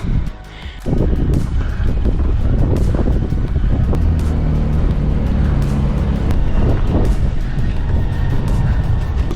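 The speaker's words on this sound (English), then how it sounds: "It is so windy." Strong wind buffets the microphone near the top of the Col du Tourmalet in the Pyrenees, a loud continuous low roar and rumble that swells and gusts throughout after a brief lull.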